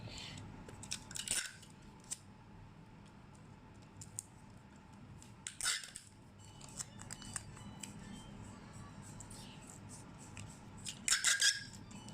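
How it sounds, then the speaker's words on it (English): Scissors cut out a homemade paper sticker, making a few crisp snips spaced seconds apart over a quiet background hiss, with a quick cluster of cuts near the end. "Make sure when you cut it, you need to have some space like this one."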